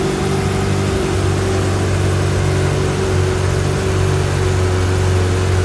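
Idle of a 1995 Ferrari F355 GTB heard up close, a steady, loud exhaust drone holding an even pitch for several seconds, with no voices over it.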